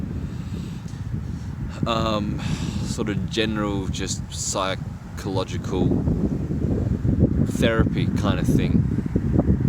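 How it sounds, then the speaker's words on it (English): Outdoor wind buffets the microphone as a steady low rumble, loud and constant under someone talking throughout. "It's a bit windy here."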